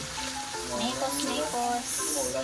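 Meat sautéing with fish sauce for pinakbet in a hot pan, giving a continuous sizzle and crackle that runs under a voice talking throughout.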